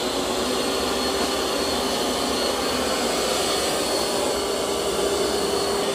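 A eufy X10 Pro Omni robot vacuum cleans carpet with a constant, even whirring hiss from its motor and brushes, running steadily and close the whole time.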